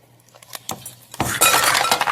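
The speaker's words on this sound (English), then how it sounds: "dump the ice cubes in here" Ice cubes tumble into a drinking glass during a primary school science lesson, first a few scattered clinks, then a loud rush of clattering, rattling ice close by with no talk.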